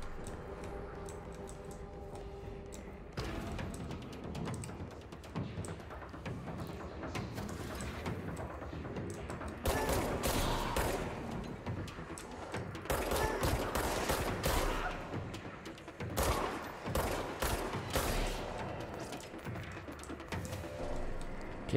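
Gunfire in the video game Control: scattered sharp shots and short rapid bursts over a steady game ambience, getting louder and denser in the second half, with no talking.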